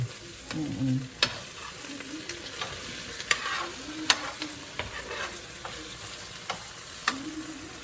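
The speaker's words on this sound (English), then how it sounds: "I'm here constant or stirring it, because I don't want the onions to get stuck and start burning on me" A spoon scrapes and stirs onions and okra frying in a pot, giving steady scraping knocks every second or so over a soft, continuous sizzle, close and fairly quiet.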